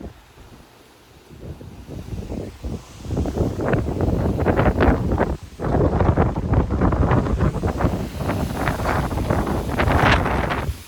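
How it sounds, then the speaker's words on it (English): Extremely strong wind gusts in Frisco, Texas, roar into the microphone in loud, surging bursts that rise from a quieter start, briefly dip, then keep pounding on. "We're getting some pretty strong wind gusts."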